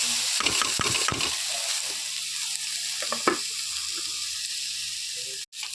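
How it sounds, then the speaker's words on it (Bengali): Grated coconut fries in a hot wok as a sweet coconut filling, giving a steady broadband sizzle with a cluster of scraping stir strokes early on and a few more later, close and fairly loud with no voices. "কড়াইটা চাপিয়ে দিয়েছি এবারে নারকেলের পুর ভেজে নেব দিয়ে দিলাম নারকেল"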